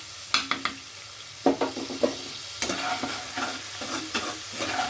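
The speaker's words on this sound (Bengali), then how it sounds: "মশলাটা একটু কষিয়ে নিয়ে দিয়ে দেবো" Salt, turmeric and Kashmiri red chilli powder fry in a pan for a paneer curry, a close, steady sizzle broken by repeated scraping strokes of a spatula stirring the spices.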